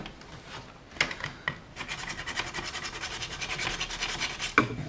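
Plastic on a Nerf Rapidstrike blaster part gets roughened for gluing, with a few sharp scrapes followed by steady rapid rasping strokes, close and quiet, ending in one harder scratch.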